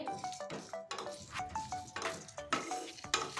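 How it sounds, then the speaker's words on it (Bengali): Chanachur spice mix fried and stirred in a pan, with repeated scraping and metallic clinks of a spatula against the pan in a steady rhythm over a faint sizzle, close and moderately loud. "মশলাটা একদম মোচমোচে করে ভেজে নিতে হবে"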